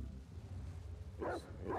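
A dog in the video game The Last of Us Part II gives two short barks amid low, rumbling game ambience, close and moderately loud.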